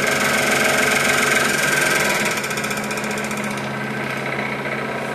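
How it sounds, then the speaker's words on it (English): A cheap hobby scroll saw runs at speed with a steady, busy mechanical buzz and rapid vibrating chatter while its blade tension is checked, loud and close with no talking. "go ahead and turn the saw on and listen for any rattling to see if we've got the tension too tight"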